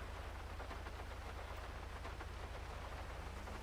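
Rain falls in the video game GTA V in Los Santos, a constant even hiss over a low droning hum, with no talking.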